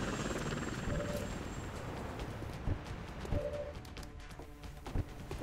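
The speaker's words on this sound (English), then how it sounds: "That guy's dropping in from a bloody helicopter." A helicopter in the video game XCOM Enemy Within thuds with a steady rotor chop, with a few sharp game effects cutting in over it.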